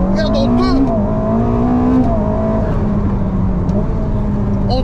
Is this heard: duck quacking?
no